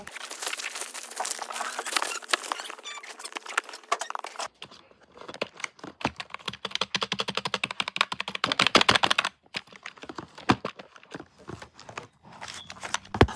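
Rapid clicky typing on a newly unboxed computer keyboard, dense fast keystrokes close to the microphone, with brief pauses and a shift in tone partway through as the typing continues.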